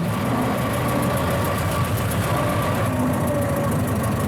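A 1924 Ford Model T engine chugs steadily as the car pulls away, a low, rough, even rumble held close and continuous for a few seconds with no talking.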